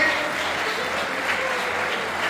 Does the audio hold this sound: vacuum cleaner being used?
no